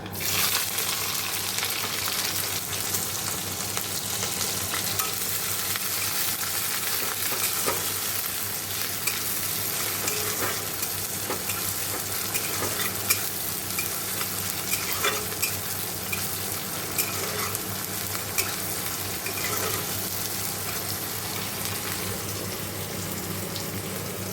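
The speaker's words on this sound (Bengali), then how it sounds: "এই দেখো কালো জিরে ফোড়ন দিয়ে দিলাম" Black cumin seeds tempering in hot oil with ginger-garlic paste in a pan, giving a steady, loud, dense sizzle and crackle that runs unbroken from start to finish with occasional spatters, no voices.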